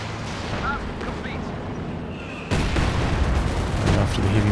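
Heavy mortar teams fire in a Company of Heroes 2 battle, booming under continuous battlefield noise that grows louder partway through while a commentator talks over it.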